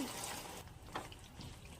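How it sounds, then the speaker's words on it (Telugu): Water is added to a pan of radish and tomato curry. The pour makes a short, close, splashy rush that fades into a softer trickle. "దాన్ని వాటర్ వేసుకోవాలి ఉడకటానికి"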